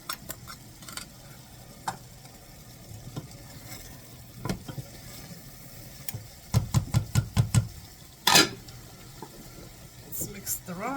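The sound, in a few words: stirring rice and spices in a pan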